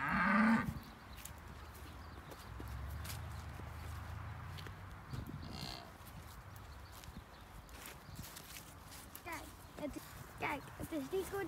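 On a Dutch farm with cows, a black cow, and hungry calves, a low drawn-out moo sounds at moderate distance, with hoof clops, footsteps and rustling around, while a person talks nearby throughout.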